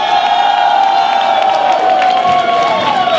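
A crowd at a 2015 Paris rally applauds and cheers loudly and steadily, with whoops and shouts running through a dense, sustained wall of noise.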